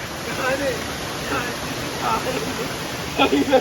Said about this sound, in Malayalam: ഇവിടെ വെള്ളച്ചാട്ടമാണ് താഴത്തേക്ക്.